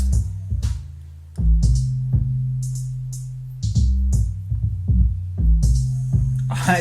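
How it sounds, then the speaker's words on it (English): Rap beat with drums and 808 bass together, heavy gliding sub-bass notes under snappy snares and hi-hats in a slow, punchy pattern, loud and upfront with no voices. "so that's the drums and the 808s together."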